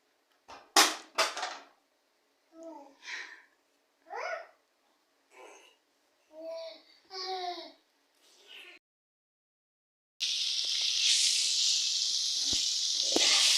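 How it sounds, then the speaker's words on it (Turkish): A small child babbles in short bursts, then meat starts sizzling loudly and steadily in a hot pan until the end. "Etimizi tavada kavuruyorum. Yani kızartıyorum."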